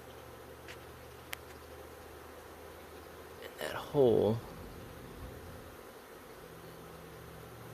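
A steady low hum of bees swarming around a catch box fills the background, with a short louder burst near the middle as someone speaks briefly close by.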